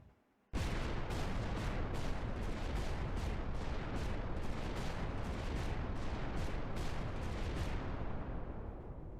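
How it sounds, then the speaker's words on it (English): Explosions in a boss fight of a platformer video game, a sudden dense barrage of rapid blasts that keeps pounding in a steady rhythm for several seconds, loud and unbroken after a brief quiet start. "There's kind of a rhythm to that explosion."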